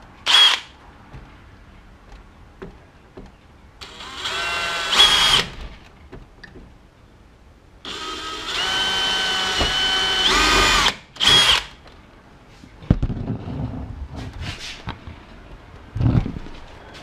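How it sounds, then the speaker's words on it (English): Power drill boring 1/8 inch pilot holes into a 2016 Toyota Tacoma TRD Pro grille, several loud whirring bursts of a few seconds each, separated by quieter pauses and small handling clicks. "So I'm gonna drill them."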